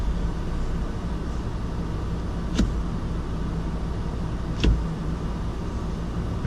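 A 2016 Mazda CX-9 AWD reverses through blizzard snow, a steady low engine and tire rumble with broadband road noise close by, marked by two brief sharp clicks or thumps.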